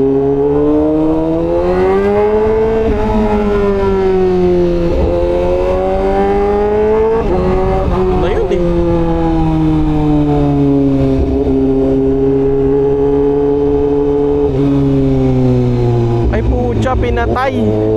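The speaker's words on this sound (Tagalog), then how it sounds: "Dami sasakyan." Continuous road traffic roars past, with cars and motorcycles revving and droning loudly in long rising and falling sweeps, a steady close wash of engine noise with no pauses.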